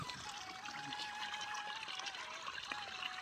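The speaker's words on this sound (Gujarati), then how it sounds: "અહીં જોઈ શકો છો તમે, આવી રીતે પાણી પડે છે અંદર" Irrigation water pouring steadily into a wheat field through a hole cut in a pipe fitted with a valve, a continuous close splashing trickle with faint background noise.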